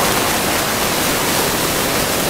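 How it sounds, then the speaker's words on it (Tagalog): Large ocean surf breaking at La Union, a Philippine surfing beach, heard as a loud, steady, unbroken roar of crashing water that fills the whole clip. "Ang lalaki ng mga alon, no?"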